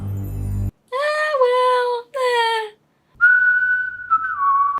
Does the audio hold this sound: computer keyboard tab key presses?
no